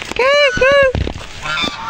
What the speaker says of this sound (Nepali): यहाँनिर फेरि विभिन्न चराहरू छन् है फुलबारीको चिडियाघरमा आइसकेपछि